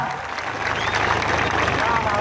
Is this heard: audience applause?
yes